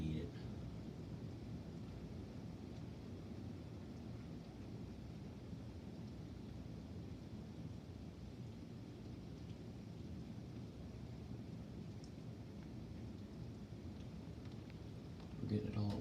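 A morning thunderstorm rumbles low and steady with heavy rain falling, a continuous deep roar and wash of downpour at moderate level, swelling slightly right at the end.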